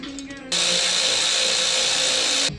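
A power tool spins out the last bolt on a power steering pump, a loud, steady high-pitched whir held for about two seconds, starting and stopping abruptly, preceded by faint workshop noise.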